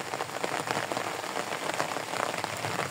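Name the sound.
heavy rain falling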